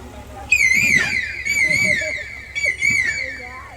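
A person imitates a koel's call with high, warbling whistled notes, three rising-and-falling phrases, loud and close.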